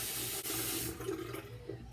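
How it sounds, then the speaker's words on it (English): Warm water runs steadily from a bathroom tap into a sink while a face is being wetted, a close, continuous splashing rush with slight shifts as hands move through the stream; no talking. "I did just wet my face with some pretty warm water"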